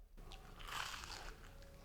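A crisp crunch as someone bites into crunchy fried zucchini, the crackling bite close and fairly quiet.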